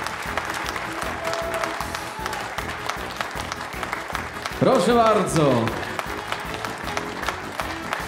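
An audience applauds at the announcement of the performer of the year at a Polish music chart event, with continuous clapping throughout while a voice speaks over it and a burst of louder cheering and voices rises midway.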